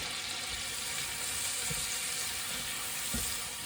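Ingredients fry in a pan for a beef joint meal, giving a steady, dense hiss of sizzling oil with a few soft knocks, close and even throughout.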